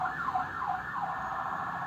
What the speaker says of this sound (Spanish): Ya está pasando, estamos al lado de acá la ambulancia.